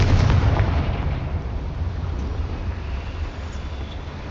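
Confringo blasting spell from the video game Hogwarts Legacy goes off as a loud, booming explosion with a heavy low rumble that slowly fades out across several seconds.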